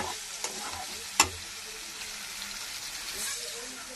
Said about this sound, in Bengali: এবারে আমি নাড়াচাড়া করে আমি জল দিয়ে দেবো